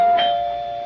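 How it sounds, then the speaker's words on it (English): A single doorbell chime rings out clearly, its bright tone sustaining and slowly fading. "Doorbell"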